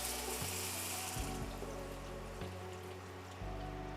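Beef broth pours into a hot pan of butter and meat for a beef and rice casserole, making a close, steady liquid splash and sizzle with a few bubbling bursts, no voices.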